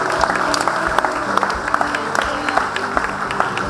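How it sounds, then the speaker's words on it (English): Steady, close applause from an audience at a rural training awards night, with sharp individual claps standing out over a dense wash of clapping and a few faint crowd voices, lasting a few seconds. "So a big round of applause for all these four as well."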